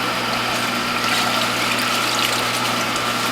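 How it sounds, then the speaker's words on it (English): Fresh vegetable juice from a Whole Health Foundation juicer is poured carefully in a steady, continuous trickle, running evenly over a low mechanical hum with no speech. "very carefully pour this in and try not to spill it"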